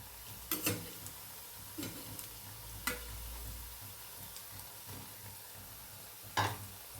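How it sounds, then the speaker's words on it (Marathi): Moth dal bhaji fritters fry in hot oil with a faint, low sizzle, broken by a few scattered ticks and clinks nearby and no voices. "आता वरून पण आपण छान तळून घेऊया"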